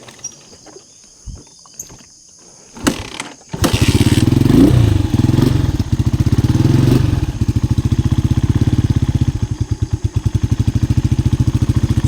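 Motorcycle on a slippery rural farm track stalls, then restarts: a few quiet clicks and knocks, then the engine catches and settles into a loud, close, steady idle with a rapid putter that keeps running to the end.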